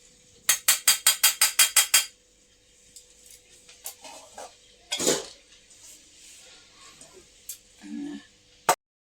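Metal plates clatter as they are set out to serve rice with cauliflower and potato curry, starting with about eight quick, evenly spaced bright clanks, then scattered softer knocks and a final sharp clink.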